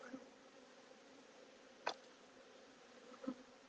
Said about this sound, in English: And now I got this box, and there's bees all over the place.